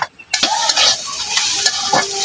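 Garlic paste and spices sizzle and fry in a pan while being stirred, starting after a brief quiet moment, with steady broadband crackle and scraping spoon strokes, close and fairly loud.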